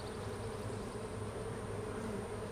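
A dense, steady hum of many bees droning together inside a hive, continuous and fairly loud with no pauses.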